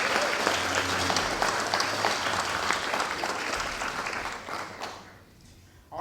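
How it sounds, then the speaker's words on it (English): A room full of people claps in sustained, dense applause for a Native American elder and activist at a talk, steady and loud for about five seconds before tapering off into quiet. "Let's give all of them a round of applause."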